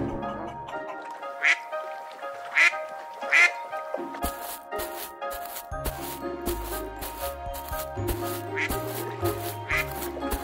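A duck gives three sharp, separate quacks up close, followed by busy cartoon sound effects and more quacks mixed in.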